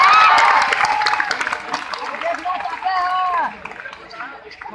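An audience at a business meeting in a hall breaks into applause and cheering, a dense burst of clapping that fades while a voice keeps talking over it.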